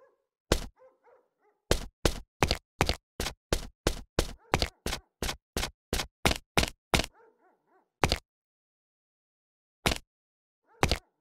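A dog in the video game Dark Years makes a long run of sharp, evenly spaced thuds, with a few more coming further apart afterward. Quiet dog whimpers sit in the pauses between them.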